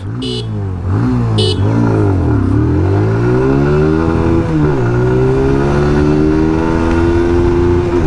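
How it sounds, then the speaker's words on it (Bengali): A 2025 TVS Apache RTR 160 2V motorcycle accelerates hard in sport mode through first gear and upshifts, its engine note rising and dropping with each gear change, loud and close throughout without talk. "Will start the acceleration test now, already on sport mode."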